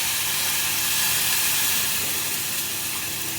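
A loud, continuous hiss and sizzle of half a cup of water poured into a hot pan for sugar syrup for coconut sweets, steaming steadily throughout without any talking.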